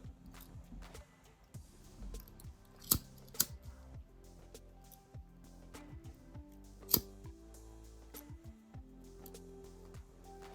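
Crisp scissor snips cut the corner off a piece of ribbon during hair-bow making, a few sharp close clicks and slices over quiet handling noise.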